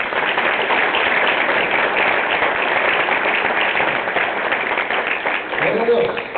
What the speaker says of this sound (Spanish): ¿Quieres darle un aplauso al Señor?